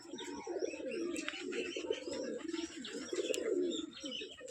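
Pigeons kept for flying tricks cooing nearby, soft repeated throaty coos in a steady rhythm, with a few faint chirps from other birds behind them.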